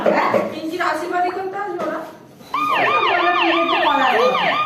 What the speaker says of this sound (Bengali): ডোডো অ্যাম্বুলেন্স চালিয়েছে, অ্যাম্বুলেন্সের সাউন্ড হচ্ছে দেখো